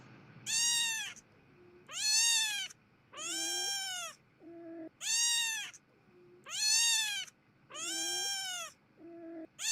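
A played recording of a screaming frog that sounds like a cat: about seven drawn-out, wailing meow-like calls in a steady sequence, each followed by a short lower tone, fairly close and alone without talk.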